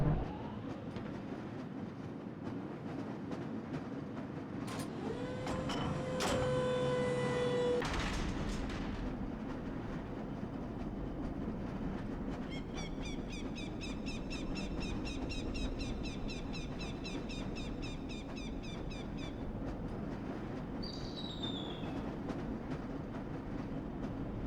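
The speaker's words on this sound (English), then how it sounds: "This lever-controlled train will transport you to a location where your training associates are waiting for you" A lever-controlled tram in the Black Mesa hazard course rumbles along steadily for the whole stretch, joined by a mechanical squeal and bursts of electronic chirps and beeps, with no voices.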